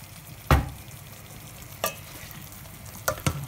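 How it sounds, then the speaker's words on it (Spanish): Judión beans are stirred and sautéed in a pan over a soft, steady sizzle, with a few distinct scraping knocks of the spoon against the pan, close and fairly quiet. "Con cuidadito, lo sofreímos todo bien, que se mezcle."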